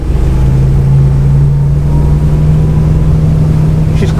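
A 31-foot flat-bottomed motor boat's engine revs up on the water, a loud, steady drone with a strong low hum that holds throughout, no talking over it.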